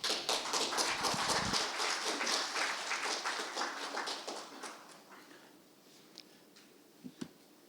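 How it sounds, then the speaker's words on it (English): Audience applause at an international science and technology policy symposium as a professor is welcomed to the podium, a dense burst of clapping that is loud for about five seconds, then thins out and fades into a few scattered claps. "Please welcome him with a big round of applause."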